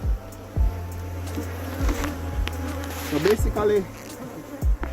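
Honeybees buzz steadily at an open spring hive during an inspection, a continuous low drone with sharp knocks and handling bumps, while a person speaks briefly nearby.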